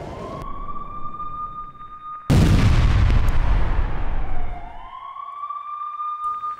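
A guided bomb strike on Gaza lands as a loud, close blast that bursts in mid-clip and rumbles for about two seconds, between stretches of a steady wailing emergency siren.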